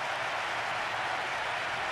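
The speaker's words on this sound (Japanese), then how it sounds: "大歓声が響き渡ります。" Stadium crowd in the Winning Eleven 10 J-League football video game roars in a steady, broad wash of cheering with no clear talk.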